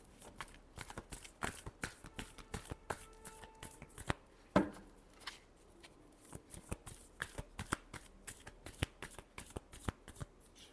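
Close, quiet shuffling of tarot cards in a love reading, rapid papery flicks and soft slaps coming in irregular bursts, with one sharper knock near the middle and no voice.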